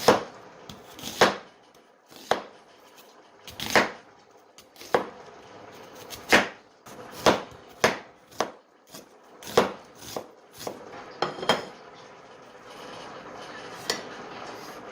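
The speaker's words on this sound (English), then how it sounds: "I'm just going to go ahead and just slice up my onion." Knife slicing an onion on a cutting board while cooking a quick spicy sausage pasta; sharp, separate chops land about once a second, close and clear, with quiet gaps between strokes.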